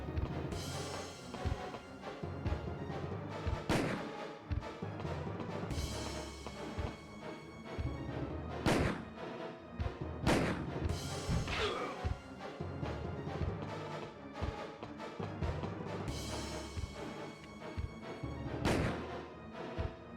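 Heavy magnum pistol shots in a Resident Evil game, several sharp loud blasts spaced a few seconds apart over a continuous backdrop of game sound and music, with no voices.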